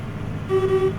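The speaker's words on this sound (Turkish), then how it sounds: "Korna morna ses" A low engine rumble runs throughout, then a single steady Scania S Series truck horn blares for about half a second, in the Euro Truck Simulator 2 video game.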